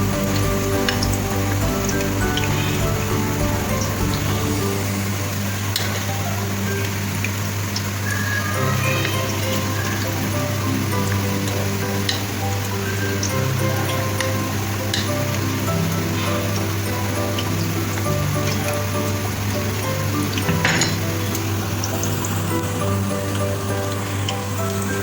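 Pakoras frying in hot oil for kadhi pakora give a steady, dense sizzle with scattered pops that continues unbroken, with a voice faintly talking under it.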